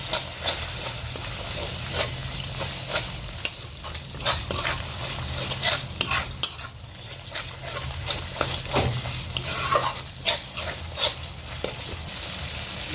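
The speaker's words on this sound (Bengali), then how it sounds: "আস্তে আস্তে নেড়ে নেব এটা" A spoon stirs curd into a rui fish kalia in a pan over a low flame, giving repeated soft scrapes and taps over a faint, steady sizzle, with no voices.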